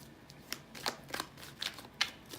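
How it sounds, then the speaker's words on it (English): A deck of tarot cards is shuffled by hand close up, a soft, quiet series of riffling, slapping card sounds in irregular bursts, with no speech. "I don't know why I'm still shuffling."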